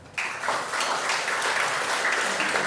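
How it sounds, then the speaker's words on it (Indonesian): Audience at a religious debate bursts into applause, a sudden, dense wash of clapping that starts abruptly and continues steadily for a couple of seconds. "Sekali lagi tepuk tangan."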